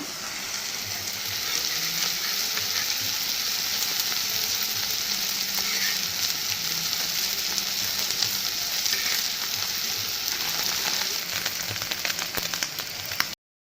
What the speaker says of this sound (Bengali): এদিকে পেঁয়াজ টমেটো একটু ভেজে নিচ্ছি